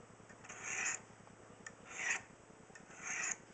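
A knife edge is honed with very light strokes on Lansky ceramic crock sticks to clean up burrs: three smooth, close rasping swipes in an even rhythm, each about half a second long, with no talking.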